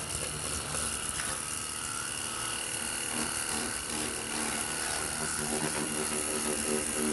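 A Nagawa cordless high-pressure jet cleaner sprays water onto a motorbike, giving a continuous, fairly loud whirring motor drone with hissing spray throughout.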